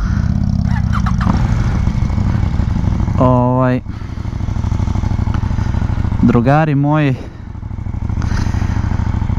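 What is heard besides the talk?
motorcycle engine with factory exhaust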